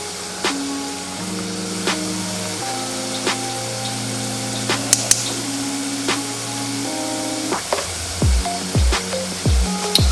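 Jamaican festival dumplings fry in a pot of oil, a steady bubbling sizzle with occasional stirring scrapes and clinks, with music humming underneath and no talk.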